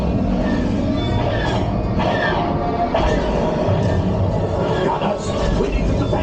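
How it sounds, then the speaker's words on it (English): Train rumbling on the Millennium Falcon ride at Disney's Hollywood Studios, a steady loud mechanical roar with rattling and brief higher clanks throughout, under continuous ride effects. "There's the train."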